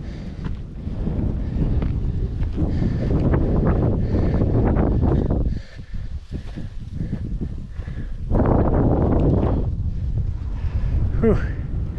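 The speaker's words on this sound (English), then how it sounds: "That is a brisk wind." Brisk wind buffets the microphone along a gorge trail, roaring in strong, uneven gusts with a brief lull partway through.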